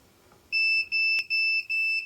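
A non-contact voltage tester set to NCV mode beeps near a live wire, four loud, shrill, evenly spaced electronic tones in quick succession after a brief quiet moment, with no talking.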